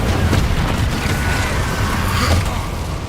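An Incendio fire spell cast in Hogwarts Legacy, heard as a muffled, rumbling whoosh of flame against a steady low game background, with a brighter burst partway through.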